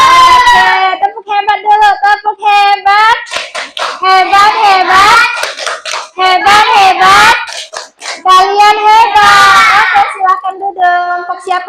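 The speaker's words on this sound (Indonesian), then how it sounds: "tepuk hebat dulu. Tepuk hebat. Hebat, hebat." Schoolchildren in a classroom chant a rhythmic clapping cheer, their high voices singing loudly and in unison with claps woven through the chant, heard close and filling the room.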